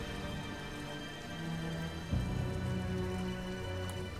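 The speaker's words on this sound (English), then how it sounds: "It's raining?" Rain falls steadily in the video game Rise of the Tomb Raider, a constant wash of drops mixed with a low game ambience and a soft thud midway.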